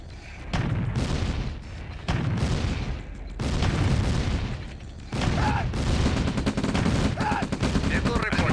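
Turrets in Command & Conquer Red Alert open fire on attacking enemies, with dense bursts of rapid gunfire and booming shots rolling in waves over the game's music, loud and continuous with brief pauses between volleys.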